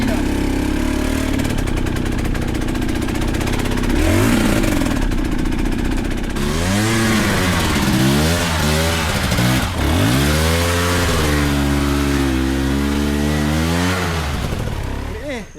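A motorcycle engine idles roughly, then revs up and down repeatedly in loud, close, rising and falling surges. People talk nearby.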